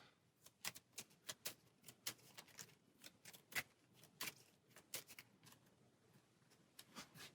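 Hero Realms playing cards being shuffled, a quick run of sharp riffling snaps and taps that come in uneven bursts, close and fairly quiet, with no voices.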